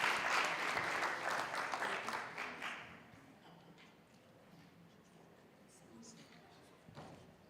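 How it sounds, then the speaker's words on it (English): Applause at a college policy conference, a dense burst of clapping for the first three seconds that fades quickly into quieter room noise with scattered sounds. "Let's just give them a round of applause for even coming."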